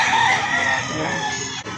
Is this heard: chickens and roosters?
yes